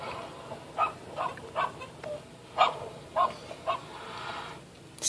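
Dogs outdoors in a March blizzard give about eight short barks and whimpers at a moderate distance, spread across steady wind and snow noise, with no talking.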